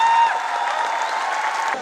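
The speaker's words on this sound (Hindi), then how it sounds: "आइए एक बार फिर से उसके लिए जोरदार तालियां हो जाए" An audience claps steadily for a couple of seconds, dense applause with a thin sustained tone ringing over it.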